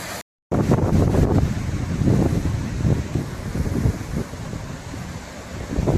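A monsoon-swollen coastal stream rushing in full flood after continuous heavy rain, a loud, steady roar of water with wind buffeting the microphone, briefly cut at the start.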